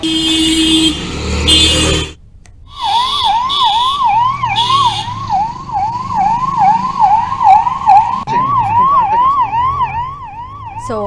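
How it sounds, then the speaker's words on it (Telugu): A traffic police motorcycle siren in Visakhapatnam city traffic wails loud and close in a steady repeating up-down cycle for most of the span, after a short burst of traffic noise and a brief gap. "ఎగ్జామ్కు ఆలస్యమైన మరో విద్యార్థిని కూడా పోలీసు బైక్పై సైరన్ వేసుకుని వేగంగా సెంటర్కు చేర్చారు"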